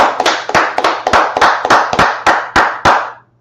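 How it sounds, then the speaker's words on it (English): A small group claps in unison at the start of a Wednesday law class, about ten sharp, evenly spaced claps over a steady low hum, loud and close. "Let's clap it up."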